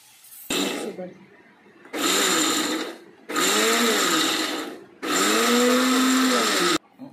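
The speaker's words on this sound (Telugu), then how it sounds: "మిక్సీలో వేసాను, మెత్తగా పేస్ట్ చేశానండి" A mixer grinder blends cooked ridge gourd chutney into a smooth paste, running in four loud, close bursts of whirring motor with short pauses between them.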